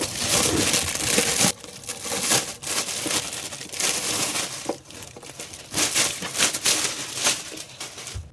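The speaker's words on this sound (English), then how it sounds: "the golf bag is inside of a plastic bag, so we're going to take that off" Plastic wrapping is pulled off an Ask Echo 2024 T-Lock golf cart bag, a close crinkling and crumpling that rustles on and off in bursts with no voices.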